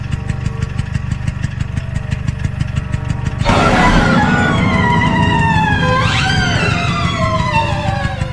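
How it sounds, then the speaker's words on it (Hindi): A cartoon scooter engine idles with a steady, rough drone, then revs up loud and close, its whining pitch climbing and wavering as it pulls away. "तभी सोहन को स्कूटर की आवाज आती है"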